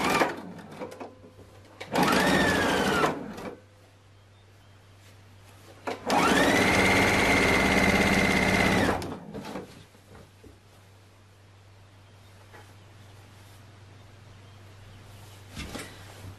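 A sewing machine stitches dress pattern pieces together in two steady, loud runs, a short burst of about a second and a longer one of roughly three seconds, separated by quiet handling noises and a low hum.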